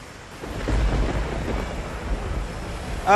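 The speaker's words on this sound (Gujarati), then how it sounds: "ધોધમાર વરસાદ વધુ એકવાર શરૂ થઈ ગયો છે." A heavy downpour during monsoon rain in Vadodara roars as a broad, steady wash, with deep low rumbling that swells and fades and a gusty edge like wind buffeting the microphone.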